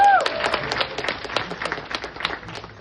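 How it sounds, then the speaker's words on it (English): Brief applause from wedding guests during a best man's speech, a quick burst of claps that starts fairly full and fades to lighter scattered clapping within a few seconds. "Round of applause."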